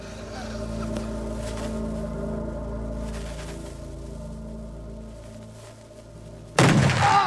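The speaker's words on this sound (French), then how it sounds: "Toute une explosion." A MythBusters explosion test meant to produce a shock wave: a steady low rumbling drone runs for several seconds, then a single sudden, very loud blast bursts in near the end and stays heavy to the close.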